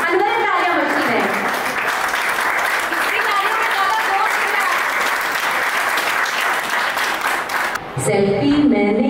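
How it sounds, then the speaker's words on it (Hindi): Loud applause fills an award ceremony hall in a road-safety foundation event, dense sustained clapping mixed with crowd voices and cheering, briefly dipping near the end before a voice comes through over amplified sound. "तो जोरदार तालियां हमारे विजय सर के लिए, अंदर तालियां बजती रहे।"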